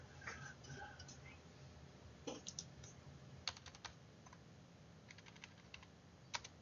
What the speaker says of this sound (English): you'll have to excuse my typing